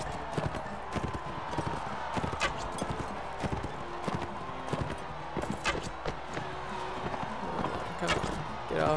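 A horse gallops in the Mount & Blade: Warband video game during a tournament, with rapid, steady clip-clop hoofbeats running throughout under a person talking.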